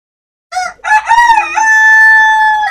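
A rooster among chickens gives a loud, close crow, starting with a short choppy call that then stretches into one long drawn-out cry.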